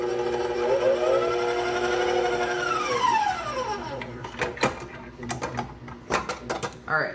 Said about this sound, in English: Just gonna mix this on low just till it's combined.